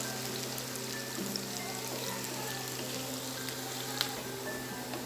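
Onions frying in a pan for beef nihari, a steady soft sizzle and crackle that holds evenly throughout, fairly quiet, with one small pop and no talk.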